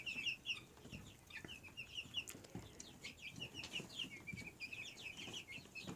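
Young chicks in a brooder chirp and cheep continuously, a busy overlapping chorus of high peeps close by, with soft scuffling and fluttering underneath and no voices.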